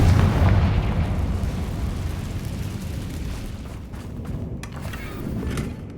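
A Confringo blasting spell explodes in Hogwarts Legacy, a loud booming burst at the start that rolls into a long rumbling decay.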